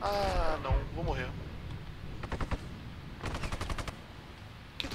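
Gunfire in Sniper Ghost Warrior 2: two bursts of rapid shots around the middle and later part, moderately loud, following a spoken exclamation at the start, with game ambience in between.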